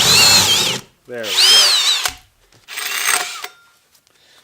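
A Kobalt brushless hammer drill on a 4 amp hour battery revs in three loud bursts with a high whine, the middle one slowing and straining under load, while someone speaks briefly between them.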